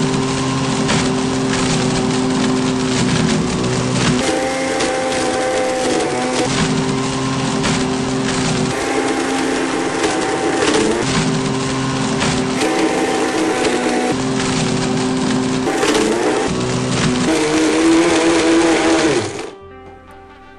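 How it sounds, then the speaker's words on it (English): An iPad being pulverized in a Blendtec Total Blender, a loud grinding, rattling motor roar with shifting pitch as pieces break up, continuing for about twenty seconds before cutting off abruptly. "I knew I could get the iPad in a BlendTec Total Blender."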